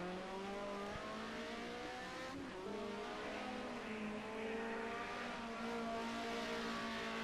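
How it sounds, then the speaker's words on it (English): BMW race car in a club race at Hockenheim in a racing game, engine droning steadily at high revs as it drifts out of a corner, a continuous layered whine with no voices. "Green Gaming, nice drift coming out that corner there"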